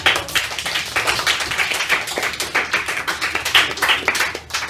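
Students in a classroom clap in a short burst of applause, a dense run of close, fairly loud claps that keeps going throughout.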